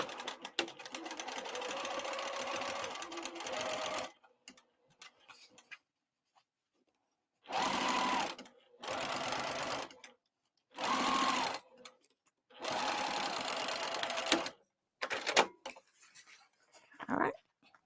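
A home sewing machine stitches the lining of a crossbody bag, back tacking a quarter inch at the start and end of the seam in several short, loud whirring bursts separated by quiet pauses.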